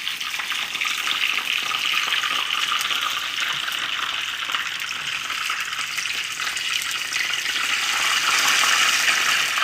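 Taquitos sizzle in hot oil in a pan, a steady bright crackle that runs without pause and grows slightly louder toward the end, with no voices.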